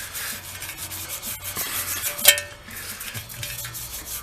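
Scrubbing at a seized Yamaha FZR1000 engine casing, a steady close rasping rub with scraping strokes and a brief sharp clink partway through, no voices.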